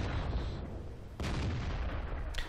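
SPG artillery in World of Tanks fires at distant tanks on the Live Oaks map, with heavy booming blasts over a dense, constant rumble of battle noise and a sharper report near the end.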